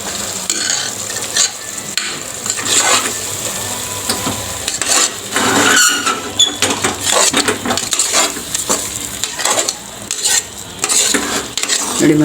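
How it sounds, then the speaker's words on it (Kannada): Ground masala paste for a wedding-style mushroom biryani fries in hot oil and is stirred with a metal spoon. A steady loud sizzle is broken by repeated scraping and clinking strokes against the pan. "ಸ್ವಲ್ಪ 1 ನಿಮಿಷ ಅಷ್ಟು ಮಸಾಲೆಯನ್ನು ಎಣ್ಣೆಯಲ್ಲೇ ಬಾಡಿಸಿ"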